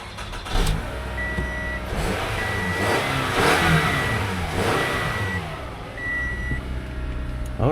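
A car engine revs up and down several times, loud and close, while a steady electronic beeping repeats in short bursts.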